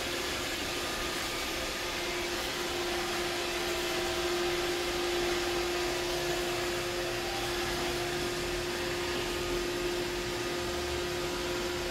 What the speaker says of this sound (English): So I'm just gonna leave it here so you guys can see what the Roomba is doing.